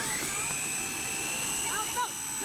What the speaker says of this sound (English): I thought that was a helicopter.